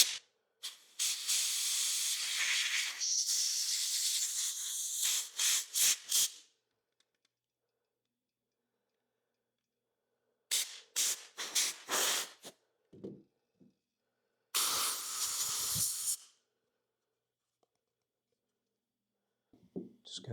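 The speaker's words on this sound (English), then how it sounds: "we'll just blow a little bit of air in, see if we can clear out all the dust" Compressed air gun blasting dust out of a Dewalt DW087 laser level, several loud close hissing bursts, one long spray followed by short spurts and another extended blast, separated by silence.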